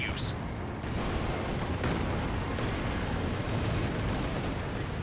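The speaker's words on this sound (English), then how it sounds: "That could finish off the Panzer IV, or that's a land mattress barrage." Land Mattress rocket artillery barrage in Company of Heroes 2, a dense continuous roar of launches and impacts that holds steady and loud for several seconds with no clear gaps.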